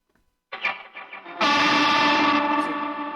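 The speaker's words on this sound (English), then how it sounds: "So the reverb gets into the distortion and then it gets really sick" Reverb fed into a distortion effect in an electronic drum and bass metal setup: a short dry figure, then a sudden wall of dense, saturated, sustained distorted wash that holds loud and slowly decays.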